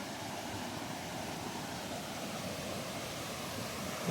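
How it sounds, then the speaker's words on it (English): High Shoals Falls waterfall near Hiawassee, Georgia, a steady broadband rush of falling water seen from a viewing platform, continuous and fairly close with no voices over it. "A beautiful waterfall to start with."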